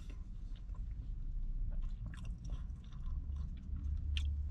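Close, wet chewing and soft crunching of a black pepper bacon breakfast sandwich, with irregular bites and mouth sounds continuing throughout and no talking.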